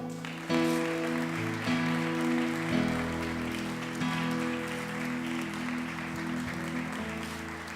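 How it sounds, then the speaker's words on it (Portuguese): A church congregation applauds during a service, steady massed clapping carried over sustained music with a low held chord underneath, continuous and moderately loud throughout. "Você pode aplaudir ao Senhor?"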